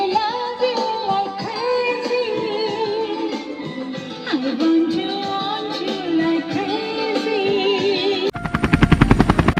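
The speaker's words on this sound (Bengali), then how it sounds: "আরে হেলিকপ্টারের আওয়াজ কোথা থেকে আসছে দেখি তো" A helicopter's rotor chop bursts in near the end as a loud, rapid, steady pulsing, cutting sharply across a dense, busy bed of music-like tones that fills most of the clip.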